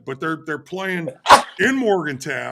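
A single sharp sneeze bursts out midway through a man's speech, loud and close, with talking continuing before and after it.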